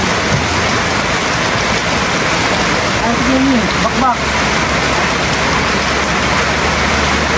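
Heavy rain pours down in a dense, constant hiss throughout, with people talking briefly over it.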